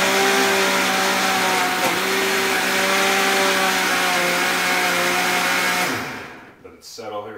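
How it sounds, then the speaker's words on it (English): A Vitamix blender grinding a green smoothie gives a loud, steady high-pitched whine for several seconds, then spins down and cuts off, leaving a brief rattle near the end. "Grind this sucker up. This Vitamixers last forever"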